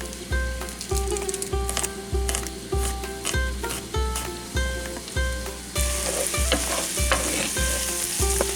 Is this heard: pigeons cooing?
no